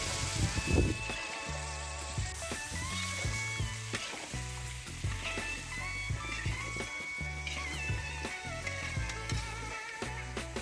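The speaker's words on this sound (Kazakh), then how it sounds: "Міне, біздің етіміз қуырылып жатыр." Pieces of meat for Kazakh kuyrdak sizzle continuously in a hot pan, with repeated stirring clatter and scraping at an irregular rhythm, close and fairly loud.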